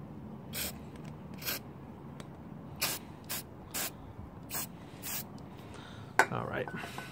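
Rust remover sprays onto GY6 scooter variator clutch parts in about eight short, hissing bursts, close and fairly loud, with small mechanical clicks in between.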